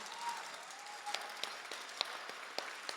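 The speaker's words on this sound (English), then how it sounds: "give that a round of applause." Audience applause at an honored hero ceremony for a childhood leukemia survivor, a steady wash of clapping across a room with a few sharper nearby claps standing out.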